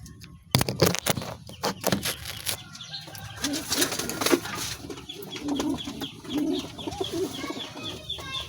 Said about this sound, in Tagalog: Dito na mga kalapati, isa-isa itutur ko kayo sa mga kalapati.